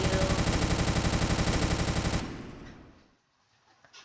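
Automatic gunfire in the video game Warfare Tycoon rattles in a fast, continuous burst of loud shots for about two seconds, then fades into near silence with a couple of faint clicks.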